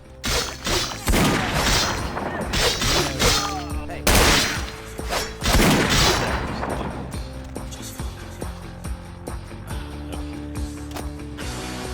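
Gunfire from Vampire The Masquerade Bloodlines during the Sabbat ending: bursts of sharp shots and mechanical clatter rattle through a dense, loud mix of game effects for several seconds, then thin into a lower, steady background.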